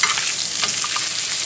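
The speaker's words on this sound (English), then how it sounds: "I'm gonna baste them again with a little sage and butter" Quail searing in a pan with sage and butter, a steady close crackling sizzle with small spits and pops, no talk.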